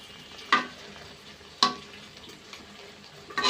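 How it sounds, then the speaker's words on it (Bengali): Onions and chilies fry quietly in a pan and are stirred and flipped, with three sharp scraping strokes breaking through the soft sizzle at spaced intervals. "এটা একটু নাড়া দিয়ে দিব,"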